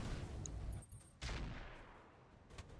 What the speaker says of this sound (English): They're firing on our Centurion